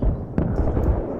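A tank is hit during an online multiplayer shooter game, with a short, sharp blast and crackling explosive bursts packed into about a second, loud and close.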